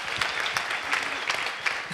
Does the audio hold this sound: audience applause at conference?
yes